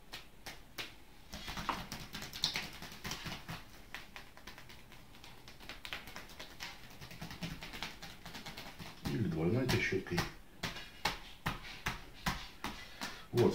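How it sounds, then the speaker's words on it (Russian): Soft, rapid fingertip tapping on the body during a manual massage, a quick patter in bursts, with a quiet voice speaking in between. "Можно вот так вот трещоточкой простучать."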